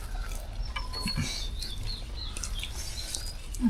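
Native country chickens cluck in a village yard, giving scattered, fairly faint calls over a steady background hum with no talking.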